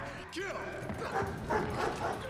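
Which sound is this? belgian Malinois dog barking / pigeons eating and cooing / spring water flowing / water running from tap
belgian Malinois dog barking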